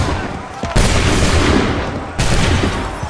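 A musket volley cracks out in an Assassin's Creed 3 battle: two loud, dense bursts of massed gunfire, each followed by a roaring noisy tail, close and alone without talk.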